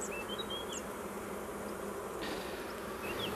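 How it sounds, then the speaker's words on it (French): Honey bees buzz softly around an open hive frame at an apiary, a faint, continuous hum with a few brief higher wingbeat whines drifting past, with no speech. "c'est une abeille qui est en train de nourrir, qui a la tête dans l'alvéole"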